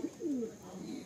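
A Madrasi pigeon in a loft gives a soft, low coo, one short close call followed by a longer drawn note, with quiet background murmur.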